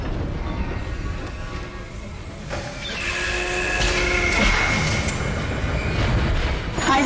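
A tram car in the Dead Space video game, rumbling and grinding as it moves, with a rising metallic whine that swells and holds steady.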